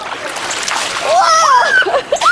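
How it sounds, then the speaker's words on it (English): Water splashed onto a dolphin during a swim session: a loud splashy spray of water, with excited voices and squeaky calls over it. "Now splash her with some water."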